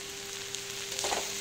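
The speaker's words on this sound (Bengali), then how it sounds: "অল্প কটা কেটে ভাজা বসিয়েছি" Homegrown new potatoes fry in a pan on the stove, giving a steady soft sizzle with a brief stirring scrape near the end, fairly quiet and without talk.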